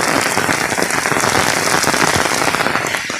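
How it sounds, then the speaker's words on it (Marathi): Heavy evening rain pours down steadily in a Konkan village near Ratnagiri, a dense, loud hiss of drops drumming on surfaces with no voices. "जोरदार पावसाला सुरुवात झाली बघा."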